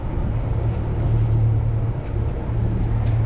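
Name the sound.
sailboat engine running in reverse while anchoring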